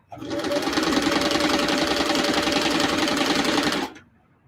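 An old Singer 338 sewing machine runs in one continuous, loud, close-up whirr for about four seconds, then stops abruptly and leaves near silence.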